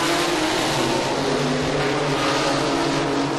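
Dense, continuous engine roar of ISCARS DASH series race cars pulling away on a restart at Lonesome Pine oval, a loud steady wash of several engines blended together with no clear individual revving.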